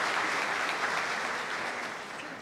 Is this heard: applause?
yes